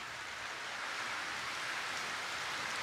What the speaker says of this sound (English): So the power is out now. It's raining.